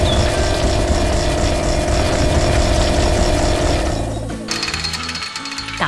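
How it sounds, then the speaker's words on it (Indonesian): A ground drill or boring machine digs into the earth on a sugarcane farm, giving a loud, continuous rapid hammering roar that drops to a lower engine rumble near the end. "Bor itu sedang bekerja keras menggali tanah, mengguncang bumi dengan suara bisingnya."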